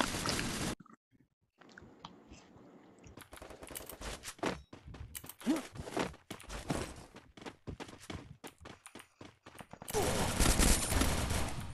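Video game gunfire in a shooting game, with quick bursts of automatic fire and single shots coming in irregular clusters, fairly loud, separated by short quiet gaps.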